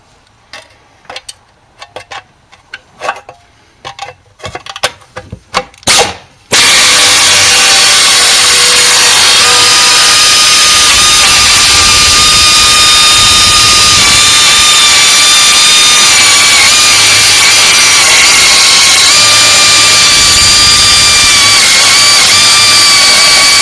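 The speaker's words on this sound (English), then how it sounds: "what I'm going to use to trim it is this Sheetmetal Nibbler. It's a pneumatic tool." A pneumatic sheet metal nibbler trims metal on a Subaru WRX or STI down pipe job, opening with several sharp, separate air-tool bursts, then running continuously for a long stretch as a loud, harsh, buzzing chatter.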